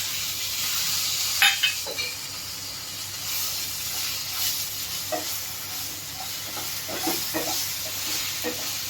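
Tomatoes fry in a pan with a soft continuous sizzle, while a spoon stirs them in scattered scraping clinks throughout.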